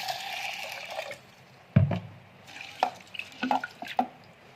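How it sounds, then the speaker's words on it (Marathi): Soft splashing and dripping water with a few sharp knocks and sloshes, close by, as lentils are rinsed in a vessel. "आता आपण डाळ धुवून घेणार आहोत"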